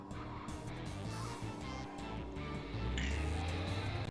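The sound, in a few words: car engine roaring and tires screeching, from a video game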